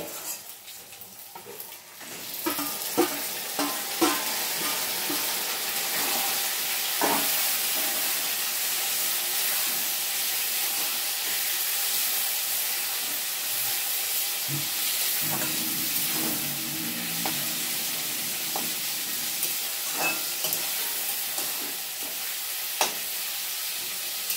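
Meat marinated with salt and turmeric fries with tomatoes and onions in a pan, a steady close sizzling hiss with intermittent clinks and scrapes of stirring, continuous for a long stretch without voices.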